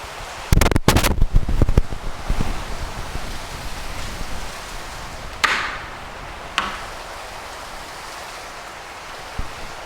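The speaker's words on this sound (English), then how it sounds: "It is raining." Rain falls in a steady, soft broadband hiss that lasts throughout, with a cluster of sharp knocks and thumps near the start and a couple of isolated bright taps later.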